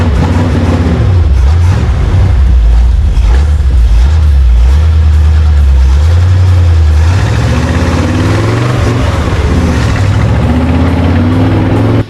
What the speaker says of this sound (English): With the roar of the engine